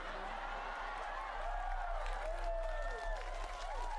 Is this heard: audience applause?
yes